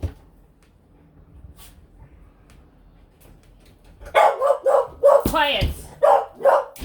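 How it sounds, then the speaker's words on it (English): A dog barks in a quick series of sharp, close barks that break in after several seconds of near silence, with a voice mixed in. "Sorry, that was my dog."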